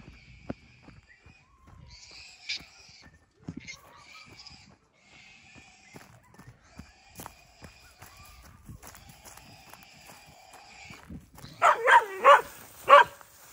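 Pig hunting dogs barking in rural central NSW, a burst of several loud, close barks near the end following quieter scattered rustling and movement.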